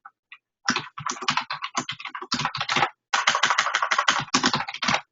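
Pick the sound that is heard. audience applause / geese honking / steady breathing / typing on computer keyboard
typing on computer keyboard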